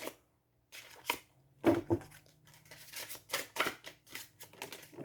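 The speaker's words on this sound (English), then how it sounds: "I'm getting sloppy with the shuffling here." A deck of oracle cards is shuffled in quick, close papery bursts of riffling and flicking, with short pauses between handfuls and no talking.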